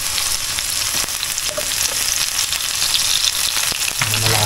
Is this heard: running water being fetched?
no